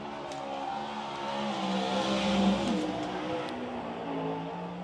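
Race cars roaring through the opening lap at Silver Dollar Speedway, a dirt oval, their engines droning and rising together in a steady, fairly distant pack sound with no talk over it.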